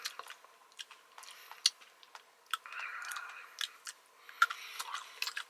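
Close, crisp crunching of a Lunchables pepperoni pizza kit with crispy rice being chewed, irregular bites and crackles with moist mouth sounds.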